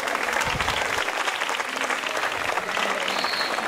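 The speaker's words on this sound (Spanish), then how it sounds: "Un aplauso para ella nuevamente." Audience applause at a school community project-closing event in Lima, Peru, dense steady clapping throughout, fairly loud and near, with no talk over it.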